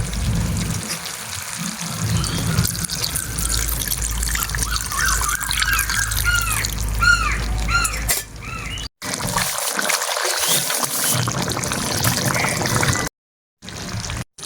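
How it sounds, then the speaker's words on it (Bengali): Water trickles and pours into a pot of chicken kanti curry after the meat has been fried in spices, a steady splashing stream up close with brief pauses and no talk. "তো এবার আমি হালকা জল দিয়ে দেবো।"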